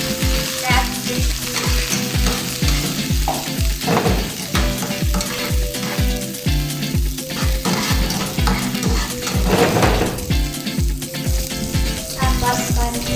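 Crabstick frying in a pan with tomato for an easy keto meal, a steady sizzle broken by repeated scraping and stirring strokes of a utensil throughout, close and fairly loud with no talk.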